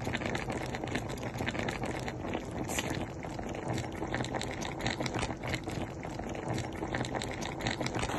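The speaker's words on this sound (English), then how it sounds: "And we're just going to be boiling it." Steady dense bubbling and hissing of a pot of vegetables and onions boiling at close range, continuous and fairly even throughout with no talking.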